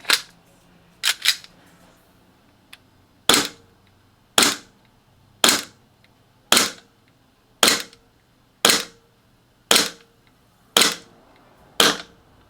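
A PTS Syndicate ZEV OZ-9 Elite gas blowback airsoft pistol fires about a dozen sharp, crisp shots, a quick double at first then a steady, evenly spaced rhythm, loud and close in a quiet room.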